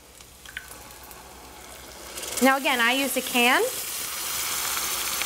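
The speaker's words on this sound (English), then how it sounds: "And now we're gonna add our crushed tomatoes." Crushed canned tomatoes go into a hot pan over medium heat for a pomodoro sauce, and a loud sizzle swells midway and holds steady while a person talks over it.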